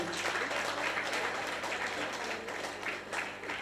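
Clapping from the audience at a Tamil association's annual day celebration honours student folk dancers, a steady, fairly quiet wash of applause lasting the whole moment with no voices on top.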